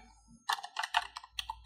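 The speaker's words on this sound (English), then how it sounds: "we do this by typing import Pyom." Quick bursts of keystrokes on a computer keyboard, close and crisp, a rapid cluster of clicks with a short pause before the final few taps.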